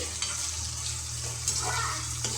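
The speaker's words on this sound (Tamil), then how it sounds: "இப்போ பாருங்கள், வெங்காயம் தக்காளி வதக்கி எடுத்துக்கலாம்" Onion and tomato sautéing in a pan for a yam tamarind curry, a steady close sizzle with a low background hum and faint scrapes of stirring, no talking.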